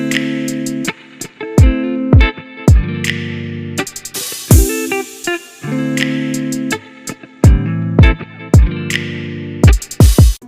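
Drum loop with heavy kicks, a washing cymbal and ticking hi-hats, playing a steady repeating pattern over a sustained synth chord, loud and close with no talking.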